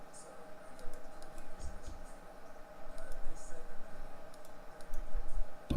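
Computer mouse clicks tick in quick, light bursts at close range while playing modded Minecraft, scattered across the moment under a faint steady hum, with a person talking now and then.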